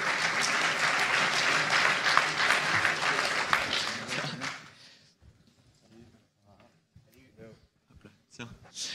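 An audience applauds to welcome the founder of Doctolib at a talk, loud dense clapping for about four seconds that dies away into quieter speech.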